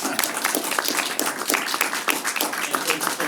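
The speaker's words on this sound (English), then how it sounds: "So round of applause" Audience applause at a film festival Q&A after a music video wins the Grand Jury Award, a steady round of close clapping throughout.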